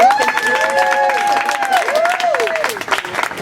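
A crowd at a community political event in San Francisco's Western Addition applauds for the organisers, the clapping mixed with cheers and raised voices.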